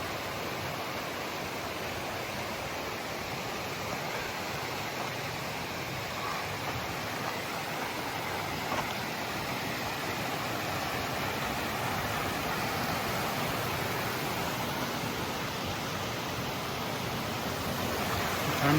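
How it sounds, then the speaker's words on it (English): A stream of water flows steadily below a campsite area on the Pacific Crest Trail near Saddle Junction, a constant, even rushing hiss heard from a distance, alone without talk. "Sounds like a good water source down there."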